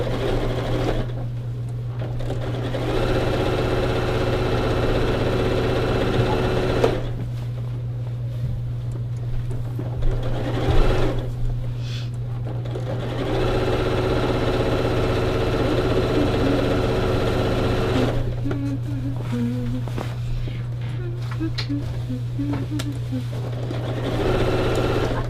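Sewing machine stitching squares for an easy springtime baby quilt, running in long steady bursts with brief pauses between, loud and close over a constant low hum.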